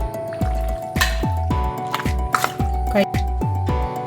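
Raw chicken is mixed by hand with turmeric, spices and salt for a Kasaragod-style ghee roast, making a rhythmic run of wet squelching slaps close up, about two per second.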